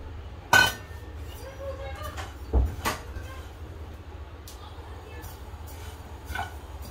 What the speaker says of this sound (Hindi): अब हम इसमें सौंफ डालेंगे।